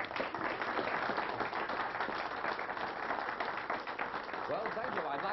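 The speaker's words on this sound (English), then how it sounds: "your applause will be canned and sent on to less fortunate artists" Studio audience applauding after a card trick on a television show, a steady dense wash of clapping sustained throughout at moderate level with no pauses.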